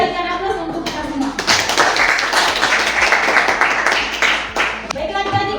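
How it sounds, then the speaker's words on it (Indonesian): Group applause from students in a classroom, a dense burst of clapping that swells after a moment and holds steady for several seconds before tapering, with a teacher's voice faintly under it. "berikan aplaus untuk kita semua"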